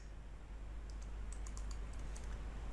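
Keystrokes on a computer keyboard while entering commands on a Windows Server 2016 machine, a quiet run of light clicks and taps over a steady low hum, including a press of the Enter key.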